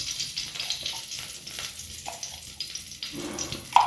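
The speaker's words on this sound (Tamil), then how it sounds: "இப்போ ஸ்டவ் அணைச்சிட்டு அந்த சூட்லேயே எண்ணெயை விட்டு பெருங்காய பொடி" Asafoetida powder frying in hot oil on a just-switched-off stove, heard as a quiet, crackly sizzle with soft utensil clinks and a sharper tap near the end, no voices.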